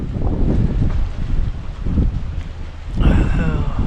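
Strong outdoor wind buffets the microphone in heavy, rumbling gusts on a breezy early-autumn morning near the water at Ha Long Bay.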